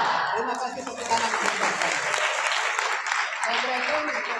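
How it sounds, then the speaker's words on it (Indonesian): Clapping from an audience at a religious moderation event in Jombang, loud and sustained, with voices and chatter mixed in beneath it and a brief dip midway before the applause resumes. "Terima kasih tepuk tangan"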